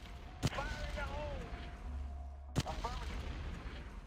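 Artillery range attack in the strategy game Shadow Empire: two sharp, distant-sounding gunfire reports spaced about two seconds apart, moderately quiet, with chirpy interface tones between them.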